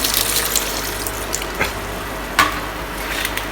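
Cold water from the fridge pours into a banana shake mix in a steady, close trickle, with a couple of soft knocks and no voices.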